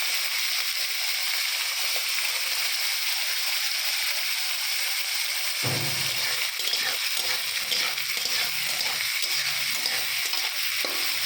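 Carrots and long beans drop into a hot pan partway through, cutting into an ongoing steady hiss and setting off a louder crackling sizzle that continues with stirring, with no voices over it.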